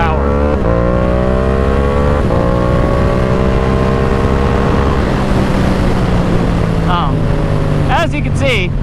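Yamaha R7 motorcycle engine accelerating through the gears, a loud rising whine that drops at each shift, up close with a rider's voice talking over it.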